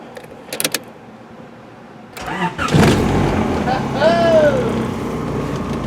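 A car engine cranks over after a motor swap: a short starter whir, then the engine catches and runs with a rising, revving tone, loud and close, with people talking around it.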